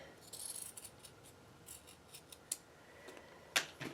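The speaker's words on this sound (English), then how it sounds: "I've got this little edge sticking out right there, so I'm just going to trim that" Scissors snip along the edge of a quilt block's fabric, trimming a small protruding edge: a few soft cuts, then one sharp, louder snip near the end, close by with no talking.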